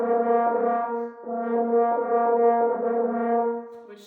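French horn playing a smooth, even phrase with no accents or staccatos, notes connected and legato, moderately soft and close with no voices.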